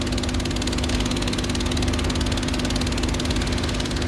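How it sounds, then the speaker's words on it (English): Sand patters rapidly on a membrane driven at 20 Hz, a loud steady buzzing rattle at close range that keeps going unbroken, with no talking. "all we hear is the sound of the sand pattering up and down on top of the membrane"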